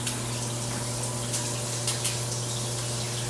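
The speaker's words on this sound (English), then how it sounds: "Oh, that looks like a decent stream. I think the shower will go pretty good." Water running steadily from a hotel shower head, a close, continuous hiss of spray with no voices over it.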